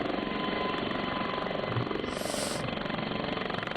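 An SA342 Gazelle helicopter in Flight Simulator 2020 gives a steady, droning rotor and turbine hum with a rapid rhythmic chop, a high whine rising briefly midway, constant and fairly quiet throughout.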